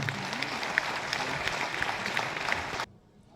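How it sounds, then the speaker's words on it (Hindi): Enthusiastic clapping from a seated audience at a business training seminar, honoring Rajesh Paswan: a dense, steady wash of many hands that cuts off abruptly near the end, leaving quiet room tone. "जोरदार तालियां राजेश पासवान जी के लिए।"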